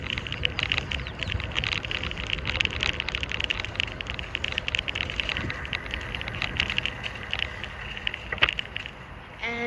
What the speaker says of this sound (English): The rain is getting kind of heavy.